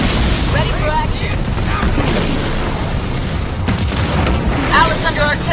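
Artillery shelling in Halo Wars 2, a dense barrage of rumbling booms and bursts under radio chatter, with a sharper impact near the end.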